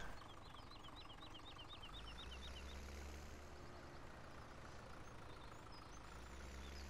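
A 90-horsepower tractor engine idles steadily in a farming simulator on the Lone Oak map, a low, even, quiet rumble that holds constant with no talk over it.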